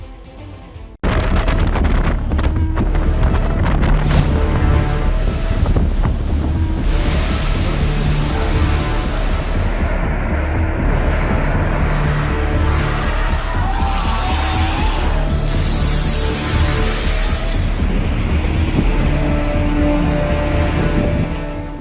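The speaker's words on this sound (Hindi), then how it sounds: "हवा जो है वो डराने लगी है और समंदर की लहरें अपना रौद्र रूप दिखाने लगी है" Strong wind and rough sea waves on the coast ahead of Cyclone Biparjoy: a loud, continuous roar of surf and gusting wind buffeting the microphone, with heavy waves crashing throughout and no talking.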